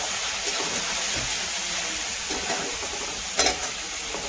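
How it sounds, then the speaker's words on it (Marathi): Finely chopped onion fries with crackled cumin seeds in a hot pan, a loud, steady close-up sizzle with a few brief stirring bumps. "जिरे आपले छान तडतडले, त्यामध्ये आपण एक कांदा टाकू बारीक चिरून घेतलेला।"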